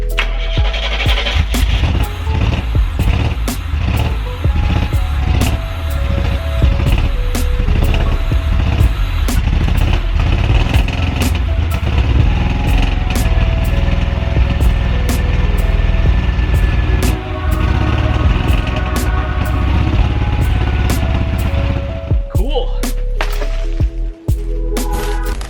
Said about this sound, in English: I'm gonna try to fire up the car, see if we can drop it into drive